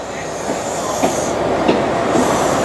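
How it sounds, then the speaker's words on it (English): Great Western Railway empty coaching stock train running into Paignton station platform, a steady close rumble of rolling coaches with faint wheel clatter and squeal, no voices. "The 1413 Great Western Railway empty coaching stock service to Paignton platform 2 by Goodrington."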